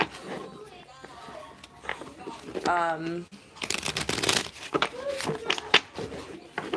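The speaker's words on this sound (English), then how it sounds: "Just have to keep shuffling" Tarot cards shuffled by hand up close, a continuous papery riffling and sliding that grows louder toward the end, with a person talking over part of it.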